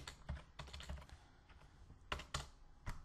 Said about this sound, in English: just do Control S on the keyboard